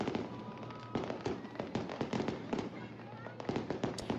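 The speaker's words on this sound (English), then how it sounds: "It's the same type of firework over and over again." Fireworks exploding at an outdoor display, all of the same type, make a continuous stream of crackling pops and thuds from a moderate distance, with crowd noise and voices mixed in.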